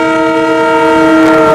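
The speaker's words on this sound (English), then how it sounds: "this is how the car sounds when you press the hooter button. It sounds like a hooter from a train." A cheap used car's horn blares like a train horn, one loud sustained chord close up, lasting the whole moment.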